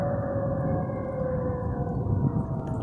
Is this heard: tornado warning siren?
yes